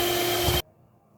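A blender whirs while mixing muffin batter with Nutella, a loud, steady motor whine with a tonal hum that runs briefly and then stops abruptly, leaving quiet room noise.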